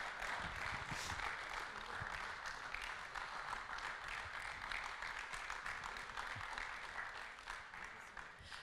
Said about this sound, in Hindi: जोरदार तालियां, क्योंकि तालियां रुकनी नहीं चाहिए